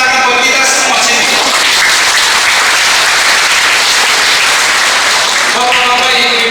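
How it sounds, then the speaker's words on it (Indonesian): A church congregation applauding together during a baptism service, loud and sustained clapping that fills the room for several seconds, with a voice heard at the start and end. "kita beri tepuk tangan buat kita semua sini"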